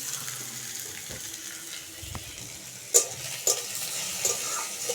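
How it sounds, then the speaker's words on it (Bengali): A tomato and onion spice paste for fish curry sizzles softly in a kadai, broken by a few sharp scrapes and clinks of a stirring spoon. "এখানে মাছের ঝালের মশলাটা কষানো হচ্ছে"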